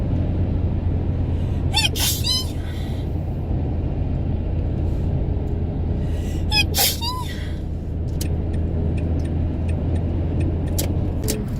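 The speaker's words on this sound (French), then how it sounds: "J'ai éternué." Two sharp sneezes about five seconds apart inside a moving car, standing out over the steady low road and engine rumble, followed by a few faint clicks.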